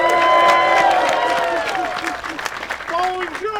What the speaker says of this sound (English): Can I get a big round of applause for Big Jerm